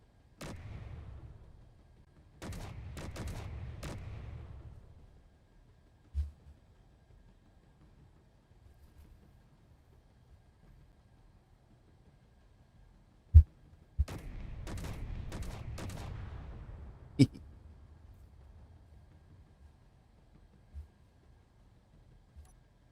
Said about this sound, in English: I think my turrets are sometimes hitting themselves